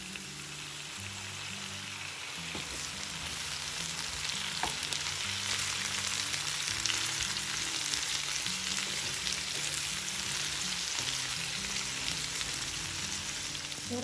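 Bottle gourd pieces and chopped tomato fry in a pan for a chutney, making a continuous bright sizzle under faint low-pitched music, with occasional spatula scrapes and no talk.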